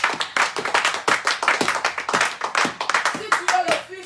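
A church congregation claps during a sermon, a dense run of quick, loud hand claps close by, with voices calling out underneath.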